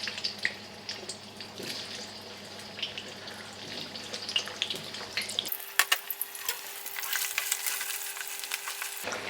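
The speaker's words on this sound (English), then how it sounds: "All I'm going to do is deep fry these paneer." Paneer cubes deep fry in oil in a thin pan, giving a steady crackling sizzle throughout, with a brief louder burst of spitting and stirring partway through.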